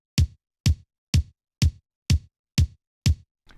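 A punchy, mid-forward kick drum plays seven even hits alone, each short and tight with a quick decay, followed by a faint tail at the end.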